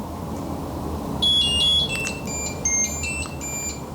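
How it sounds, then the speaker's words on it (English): A series of high electronic beeps from a Turkish coffee maker, several short tones in a row over a steady low background hum. "That's the happy beep."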